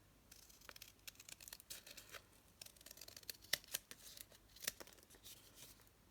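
Scissors snip through a paper booklet for a junk-style ATC journal, a quiet series of short crisp cuts and light paper crinkles at an irregular pace, close and with no talking.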